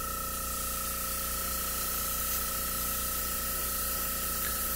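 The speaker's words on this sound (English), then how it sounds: "Now what I'm doing here is I'm using the airbrush itself to help dry it a little bit." An airbrush sprays a thin coat of paint onto a Hot Wheels die-cast car body, giving a continuous close, even hiss that runs steadily without pause.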